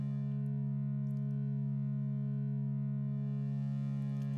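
A Tron-style 'grid' sound made with a Reaktor synth: a steady, deep, buzzy drone rich in harmonics that holds evenly and loud throughout and cuts off abruptly at the end.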